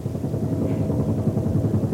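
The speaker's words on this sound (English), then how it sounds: "maniac buzzing this mansion in a helicopter." Helicopter rotor chopping close overhead above a mansion in a 1985 soap opera scene, a steady low throbbing drone that stays loud and even throughout, with no talk over it.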